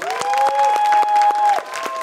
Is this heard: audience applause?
yes